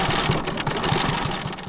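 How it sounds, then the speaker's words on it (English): A sewing machine runs fabric through in an artist's workshop, a quick steady mechanical chatter with regular thumping stitches at close range. "Tess Stackpool runs fabric through a sewing machine."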